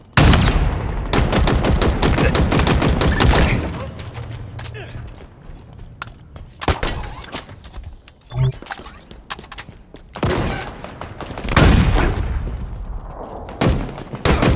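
Heavy gunfire from Halo Infinite multiplayer in a Big Team Battle match, with rapid bursts and booming shots close and loud, broken by short pauses and thuds, and voices speaking over the action.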